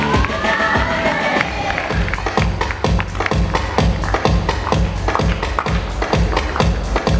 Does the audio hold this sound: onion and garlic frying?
no